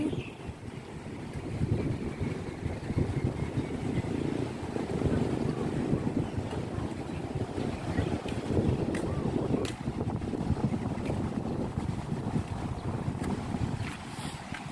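Strong wind blows at the seaside in Songkhla, Thailand, as rain approaches, producing a continuous rumbling buffet against the microphone with steady surf-like noise throughout.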